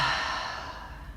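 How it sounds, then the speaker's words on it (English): A single deep exhale through the mouth during a morning yoga session, a close breathy sigh that starts strong and fades gradually over about a second. "Take a deep breath in and a deep breath out through the mouth."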